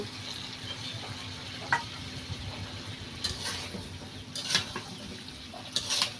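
Cut drumstick (moringa) stems and potatoes go into already-fried spices in a pan over a clay stove, giving a soft, steady sizzle with a few faint clinks and scrapes of stirring. No one speaks.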